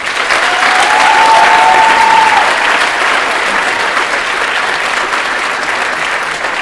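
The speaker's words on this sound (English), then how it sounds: "Let's give them another round of applause." A school assembly audience gives a loud, sustained round of applause. A brief whoop rises early on, and the dense clapping stays at a steady level through to the end.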